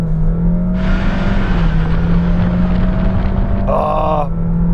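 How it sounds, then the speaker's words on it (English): A 2022 Honda HR-V in sport mode accelerates hard from a standstill, its engine droning loud and close with a rising, sustained tone, then a shift-like change near the end. "Ah, that engine's really singing."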